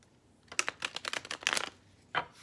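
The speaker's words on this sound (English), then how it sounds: "We'll shuffle a few more times." Tarot cards being shuffled by hand: a quick run of crisp riffling clicks and flutters, fairly close but soft, ending with one short separate burst.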